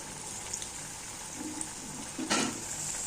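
Banana flower vada frying undisturbed in hot oil, a soft continuous bubbling sizzle at close range with a brief louder burst of crackle toward the end.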